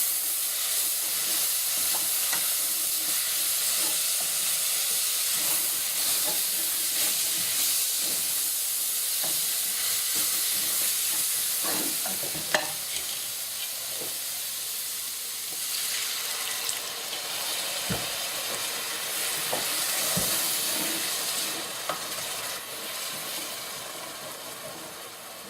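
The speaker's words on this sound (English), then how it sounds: "And we'll do what we call deglaze the pan." A pan of caramelized onions being deglazed with beef broth gives a steady steamy hiss and sizzle, with a few faint clinks and scrapes, fading slightly toward the end.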